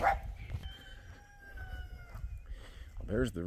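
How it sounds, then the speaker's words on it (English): A rooster crows on a farm at the start of the day, a faint, drawn-out call heard at a distance over low background rumble and other animal sounds. "There's the rooster."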